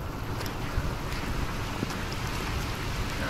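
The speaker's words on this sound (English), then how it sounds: "It's raining right now" Rain falling during bank fishing in Ramah, Louisiana, a steady close wash of patter with scattered drop taps under a low rumble, with no talk.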